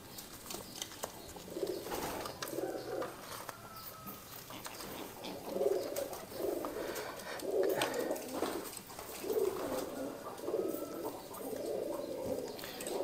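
Courting pigeons cooing repeatedly nearby, a series of soft low rolling coos in bursts against faint background noise, with occasional wing or movement sounds.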